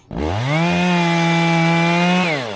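A Shindaiwa chainsaw bites into wood, its engine rising to a loud, steady whine that holds for about two seconds before easing off, with no voices.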